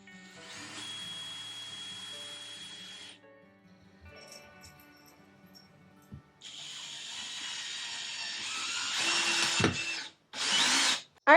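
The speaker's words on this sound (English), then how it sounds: "We're going to drill little pilot holes and then we're going to place screws just to keep it nice and secure." A power drill bores pilot holes and drives screws into a DIY pull-out cabinet drawer rack, heard as several close, loud whirring bursts with short pauses between them and no talking.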